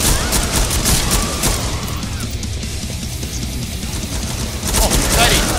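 Dense rapid gunfire from the video game Killing Floor rattles loud and close in sustained bursts, easing briefly mid-way before heavy firing resumes, with a few deeper booms among the shots.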